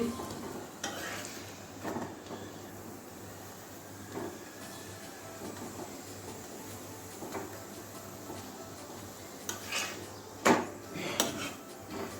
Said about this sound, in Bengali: এভাবে চেপে চেপে ভেজে নিচ্ছি